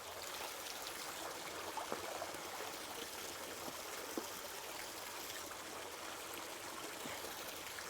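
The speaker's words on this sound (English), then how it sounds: "that's a good water flow right there" Water rushing steadily through a Royal Manufacturing highbanker sluice, a continuous close hiss and gurgle of flowing stream water with no voices.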